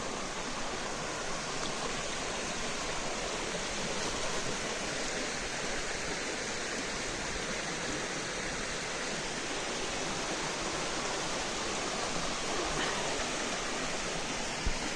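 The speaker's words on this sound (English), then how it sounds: "you can hear the rushing of the river in the background." A rushing river runs steadily and loudly through the whole stretch, a continuous broadband roar of flowing water with no talk over it, heard from a riverside spot near a tent pitch.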